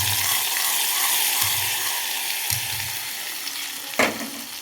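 Hot tempering hits drumstick leaf dal, setting off a close sizzle and frying hiss with a few soft stirring bumps and a sharper splash of sizzle near the end.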